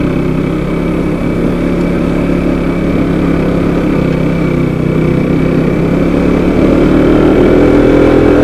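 A motorcycle on a winding mountain road between Gangtok and Darjeeling, its engine labouring steadily and unable to shift into third gear, a continuous loud drone throughout with no voices.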